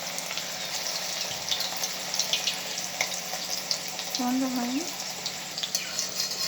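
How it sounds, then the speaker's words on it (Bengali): Small pieces of potato pakora batter frying in hot oil in a wok make a steady, moderate sizzle with scattered crackles and a brief low hum partway through. "এইভাবে আমি ছোট ছোট করে দেব, দিয়ে ভালো করে ভেজে নেব"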